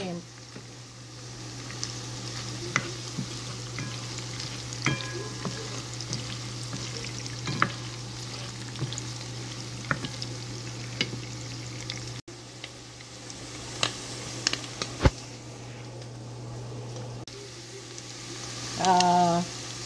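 Shrimp frying in a pan for Filipino-style instant noodles gives a steady, moderate sizzle with a low hum beneath, broken by scattered clicks and stirring scrapes, and a brief louder hiss near the end.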